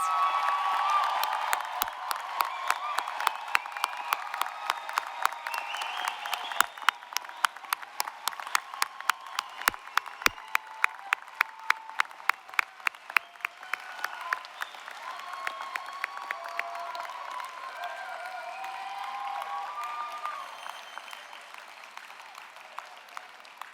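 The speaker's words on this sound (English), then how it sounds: "can we give a final round of applause to the graduating class?" Sustained audience applause for the graduating class at a fall convocation ceremony, a dense roomful of clapping with scattered cheers that swells, holds steady and slowly thins toward the end.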